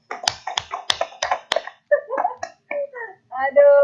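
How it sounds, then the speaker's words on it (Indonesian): A handful of sharp hand claps ring out in quick succession during a teachers' module session, then voices talk between short pauses. "Kita berikan tepuk tangan 3 kali untuk Pak Rofi."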